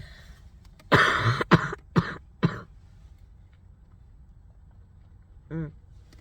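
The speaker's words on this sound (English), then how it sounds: "The cold air on my throat makes me cough." Four harsh coughs in quick succession, close and loud, followed by quiet and a short faint vocal sound.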